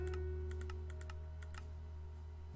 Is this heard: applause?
no